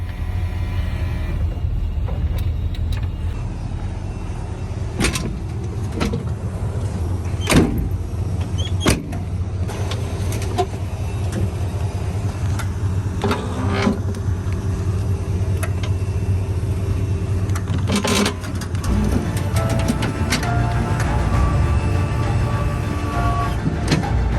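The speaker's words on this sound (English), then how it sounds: "All right, so I'm putting the lift away." Continuous mechanical motor whine with clunks and clicks as a bus wheelchair lift retracts and folds, steady and close, over a low engine hum.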